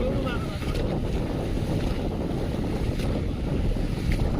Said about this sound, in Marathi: आता हलवायला चालू झाली होडी